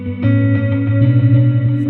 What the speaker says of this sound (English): The first one is like an ambient tone with 2 delays,